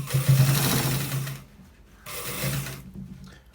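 A sewing machine stitches a shirt in two close, loud runs, the first longer, with a short pause between them.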